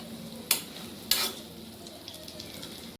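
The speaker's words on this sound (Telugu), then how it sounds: "ఎగ్ అని ఇట్లా తిప్పేసుకోవాలి" An egg sizzles steadily in a pan for a pepper egg fry, with two sharp scraping clatters as it is flipped, close and fairly quiet.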